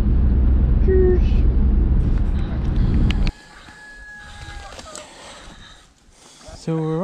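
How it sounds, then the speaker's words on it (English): Backyard chickens clucking and a rooster crowing close by in the morning, heard first under road traffic noise and then more clearly with someone talking nearby. "So we're up the chickens now. Let them out."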